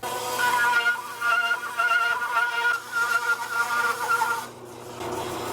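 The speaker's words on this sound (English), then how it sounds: "we'll mess around on the spindle sander and get this back in the shape we want" A spindle sander shaping the horn of a guitar body: a steady mechanical whir with rhythmic grinding pulses as the wood is pressed against it, close and fairly loud, cutting out near the end.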